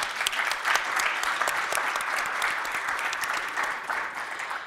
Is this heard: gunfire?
no